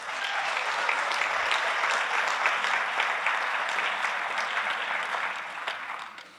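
An audience at an annual town meeting in Milton breaks into sustained applause after a vote carries, a dense, steady clapping that fills the hall and fades near the end.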